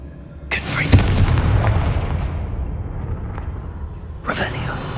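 Confringo spell explosion in Hogwarts Legacy, a sharp blast followed by a deep rumbling boom that slowly fades, with a second burst near the end and a voice heard in between.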